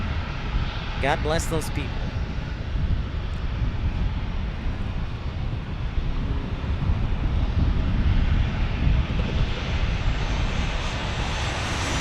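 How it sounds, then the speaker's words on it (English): Southwest Airlines Boeing 737-800 arriving at San Diego from Nashville, a steady broadband rumble of jet engines with some wind buffeting, continuous and fairly strong, with a brief spoken remark near the start. "This Southwest flight from Nashville."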